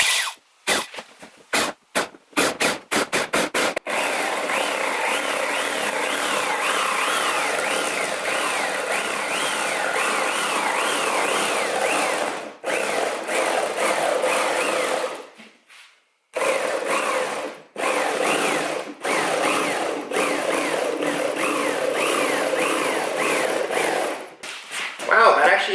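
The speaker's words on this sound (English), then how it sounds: "So I got my jigsaw and my safety glasses, and we're going to see how this works. This is the first cut ever, so here we go." A jigsaw cuts a homemade front splitter for a Subaru STi, a steady high buzzing saw run that continues for long stretches with brief stops, close and loud, after a few short taps at the start.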